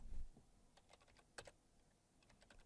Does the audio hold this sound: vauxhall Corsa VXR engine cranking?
no